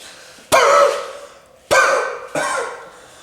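Three sharp bursts of a demonstrated cough or sneeze, each with a sudden loud onset that tails off, the first two close to the listener and the third a little softer.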